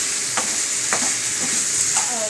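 Tomatoes sautéed with soaked Kashmiri chillies in a pan for butter paneer masala, a steady sizzle of frying broken by several scraping stirs of a spatula at regular intervals, close and fairly loud.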